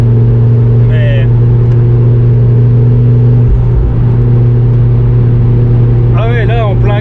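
A car engine drones steadily at full throttle, loud and close throughout, with voices chattering over it.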